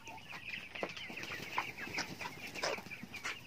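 Farm chickens cluck softly nearby, a busy overlapping stream of short clucks and murmurs in irregular rhythm, fairly faint and with no voices.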